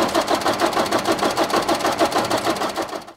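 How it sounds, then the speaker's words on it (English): Car engine cranking on the starter motor during a starter voltage drop test, a steady rapid pulsing churn that runs for about three seconds before cutting off abruptly. "we're gonna go ahead and turn over the engine now"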